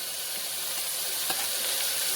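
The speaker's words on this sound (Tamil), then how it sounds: "போட்டு நல்லா வதக்க வேண்டியதான்" Onion, green chili and tomato sauté in a pan for vegetable biryani, making a continuous loud hiss and sizzle with one brief utensil clink partway through.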